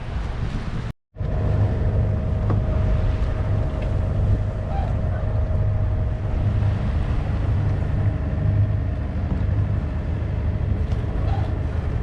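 Sailboat cruising at about 5.5 knots under two reefs and a headsail, giving a steady, close rush of wind and water that carries on continuously throughout.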